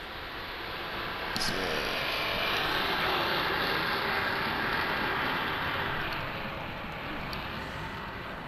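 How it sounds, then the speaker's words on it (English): An airplane passes overhead as a steady, broad engine roar that swells and fades slightly over several seconds, with a person talking over it. "Sorry, there's a plane passing overhead."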